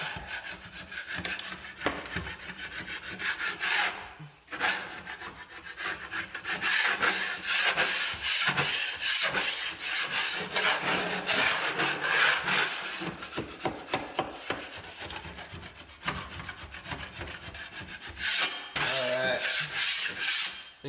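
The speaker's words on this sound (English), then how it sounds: "just taking our knife and kind of scraping over and knocking off any high spots that are sticking out" A putty knife scrapes high spots off a drywall sheetrock patch in repeated rough rasping strokes, close and fairly loud, with a few brief pauses between passes.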